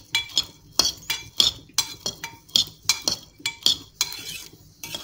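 Okra seeds being dry-roasted in a pan are stirred with a metal spoon, giving a quick series of sharp scraping clinks roughly twice a second, close and clear, with a faint crackle underneath.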